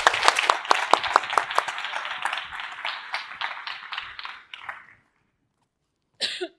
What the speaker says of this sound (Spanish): Por favor, un fuerte aplauso para Andrea.